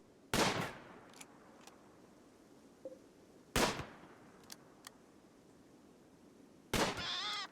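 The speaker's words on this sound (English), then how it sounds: "the iguana itself is now going to be the snack, as Steak can test out his brand new weapon" Weapon fire in the Rimworld video game aimed at an iguana: three loud, sharp shots spaced a few seconds apart, each ending in a brief ringing tail, with quiet game ambience between.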